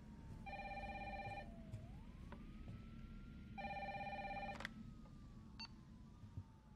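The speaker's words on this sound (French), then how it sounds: "Téléphone." A telephone rings in the video game Resident Evil 3, two electronic trilling bursts a few seconds apart, faint over low background noise and eerie tones.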